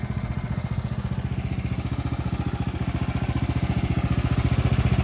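A Woodland Mills sawmill runs steadily outdoors on a homestead, its engine throbbing in a fast, even pulse at close range, loud and continuous with no voices.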